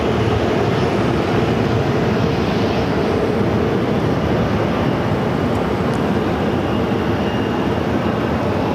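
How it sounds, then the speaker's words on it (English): American Airlines Airbus A319 arriving at Phoenix airport, a loud continuous broadband engine roar and rush that holds steady throughout, with no one speaking. "This is American Airlines 2203 coming in from Omaha on an A319"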